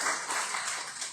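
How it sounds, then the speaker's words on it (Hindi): An audience at an Ekadashi religious gathering breaks into a brief burst of soft, rapid hand clapping, faint and somewhat distant, with no voices over it. "ताली बजा रहे? बजा लो,"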